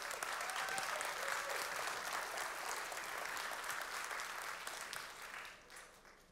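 A conference audience at TOKEN2049 claps together after a talk on data ownership and ZK-proofs, a broad continuous roll of many hands that holds steady and then fades toward the end.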